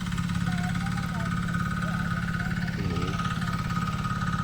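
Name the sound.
tractor engine ploughing a rice field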